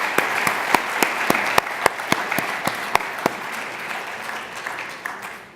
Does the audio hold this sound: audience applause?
yes